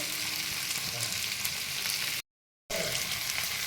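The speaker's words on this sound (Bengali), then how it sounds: "টমেটো দিয়ে একটু ভাজা ভাজা করে নেব" Tomato frying in a pan for a simple okra dish, giving a steady close sizzle that briefly cuts out before resuming.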